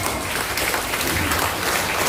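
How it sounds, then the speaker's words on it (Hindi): Loud, energetic clapping from students, teachers and parents at a school workshop, a dense continuous roar of hands close by. "give her a big round of applause"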